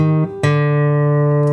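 Acoustic blues guitar playing a ragtime turnaround: a ringing bass note, a short pause, then a bright strummed chord that sustains and slowly decays.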